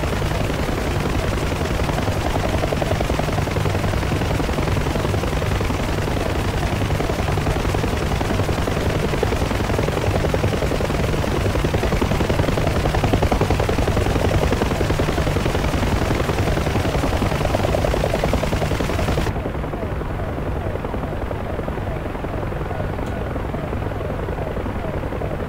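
Loud, continuous rotor thump and turbine roar of a Huey helicopter in DCS, mixed with bursts of gunfire, steady throughout before dropping off abruptly near the end.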